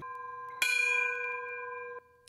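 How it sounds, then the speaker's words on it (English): A single memorial bell strikes once at a 9/11 tribute for firefighters, a clear metallic ring with a sharp attack and a long, ringing tone that fades before being damped, heard alone. "A bell rang for firefighters in attendance."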